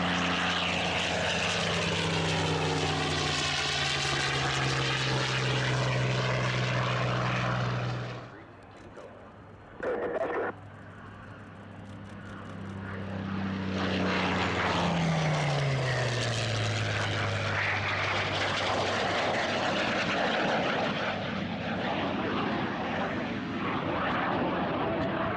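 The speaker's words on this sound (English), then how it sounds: "One of their T-38 Talons flew briefly with a P-63 King Cobra from the Commemorative Air Force" A NASA T-38 Talon jet and a P-63 King Cobra warbird pass at an airshow, a loud, droning propeller-engine roar that fades, drops out briefly, then swells back with shifting pitch as the aircraft go by.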